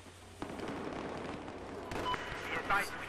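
Video game gunfire: rapid shots and muffled blasts in a continuous noisy battle soundscape, fairly dense and moderately loud throughout, with speech mixed in.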